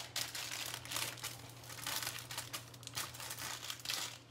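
Parchment paper being folded around a halibut fillet topped with green onions and sauce, giving steady close crinkling and crumpling rustles that continue throughout, with no one speaking.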